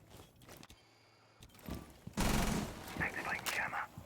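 Gunfire in Rainbow Six Siege during a competitive esports match on the Kafe map, with a quiet start, a brief mechanical rattle, and then a loud burst of rapid shots with scattered follow-up noise.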